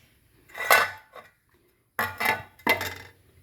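A metal spoon clinks and scrapes against a pan in three short bursts as a spoonful of ghee goes in, with quiet gaps between them and no voices.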